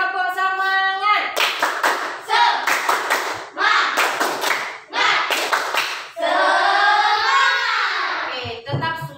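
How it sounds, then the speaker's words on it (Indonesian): An elementary school class in Tanjungpinang, Indonesia, does a rhythmic spirit clap: loud, close bursts of many hands clapping in patterned groups, alternating with children's chanted voices, ending in a sustained sung-out shout. "Oke, tepuk semangat."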